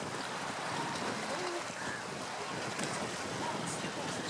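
Steady, roaring wind buffeting the microphone outdoors on a beach in Giresun, Turkey, under overcast skies, a constant broadband rush with faint surf beneath, no clear voices.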